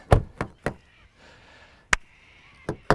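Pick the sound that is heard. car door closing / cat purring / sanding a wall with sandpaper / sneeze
car door closing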